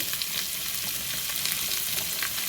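Onion, green beans and carrot fry in a hot pan for a carrot and bean milk curry, giving a steady, dense sizzle close by with faint crackles and no voices.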